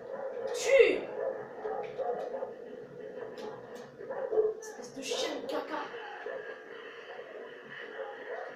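Several dogs in the game Far Cry 3 bark, yip and whimper against a constant droning background, with a louder yelp near the start and another burst midway.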